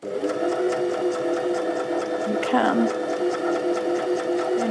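An Elna 320ex sewing machine running a wide zigzag stitch, a loud steady mechanical whirr with rapid rhythmic needle ticking, close up, with a voice speaking over it.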